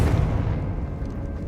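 A Confringo fire spell blast from Hogwarts Legacy: a single loud, deep boom that bursts at once and then rumbles away over about a second and a half.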